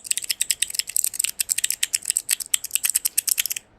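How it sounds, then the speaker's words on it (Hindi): A blue mechanical keyboard switch keychain being clicked in a rapid, uneven run of about thirty sharp, close clicks, like fast typing, stopping abruptly near the end. "ये एक्चुअल में mechanical keyboard based switch kitchen है, 270 रुपीज अराउंड।"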